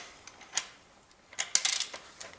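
A wrench turns to loosen a spark plug on a Honda Accord engine, giving a few sharp ratcheting clicks and metallic ticks, close and fairly quiet, with no talking.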